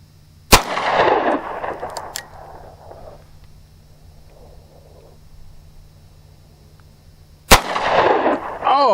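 Two sharp, loud pistol reports from a Bearman 9mm Derringer, several seconds apart, each a sudden crack trailing into a brief echoing decay, with quiet outdoor ambience in between.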